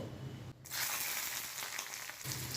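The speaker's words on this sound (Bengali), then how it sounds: "গ্যাসটাকে লো ফ্লেমে রেখে 30 থেকে 40 সেকেন্ড আদা, রসুন আর কাঁচা লঙ্কাটা ভেজে নিচ্ছি" Garlic, green chili and ginger frying in mustard oil over a low flame, a steady hissing sizzle that starts after a brief quiet gap and carries on alone, close and fairly soft.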